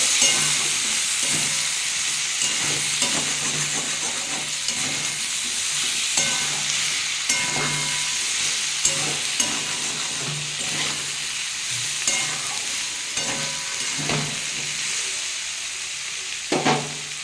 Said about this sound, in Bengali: এক চামচ গুঁড়ো লঙ্কা দিয়ে দিলাম পরিমাণ মতো নুন দিয়ে দিলাম দিয়ে এটাকে বন্ধুরা আমি একটু কষিয়ে নেবো